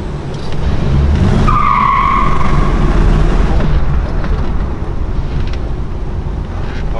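A classic Chevrolet Camaro brakes and turns with a sustained high tire squeal over a loud steady engine and road roar, heard up close from inside.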